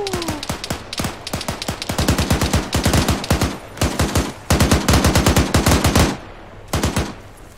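.50 cal machine gun fire in the military video game Arma 3: loud, close bursts of rapid, evenly spaced heavy shots with short pauses between bursts, and no talk over them.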